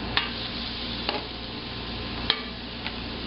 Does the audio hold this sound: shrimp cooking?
yes